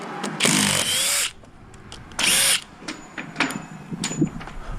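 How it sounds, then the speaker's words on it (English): Power drill on a roof framing job, two loud close bursts of whirring about a second each, separated by quieter clatter and knocks of handling, no talking. "Give me a drill."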